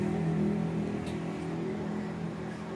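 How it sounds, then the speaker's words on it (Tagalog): Vehicles travel along Naguilian Road in Baguio City, heard from an overlooking spot as a faint, steady low engine hum and road rumble with no distinct passing car. "May mga sasakyan dyan."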